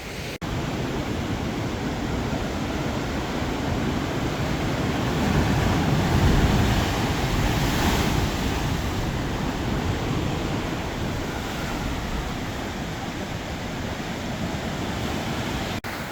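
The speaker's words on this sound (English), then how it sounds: "the tide comes back in and bam. The sound it makes when it hits that little cave in the rock at the end there is so freaking cool." Incoming tide waves on a rocky Ensenada shoreline wash against a small rock cave, giving a continuous broad rushing roar that swells in the middle and eases again, with no voices.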